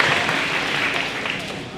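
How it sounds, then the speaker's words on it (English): A school audience at a 5th grade moving-up ceremony claps in a dense, steady round of applause, with a voice talking over it. "Give yourselves a round of applause"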